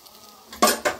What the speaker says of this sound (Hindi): और इसको हम थोड़ा सा अच्छी तरह भून लेंगे